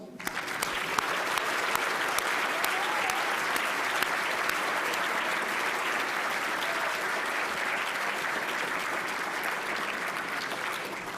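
A crowd at a new member induction ceremony applauding, a long unbroken wash of many hands clapping at steady loudness from start to finish, with no speech.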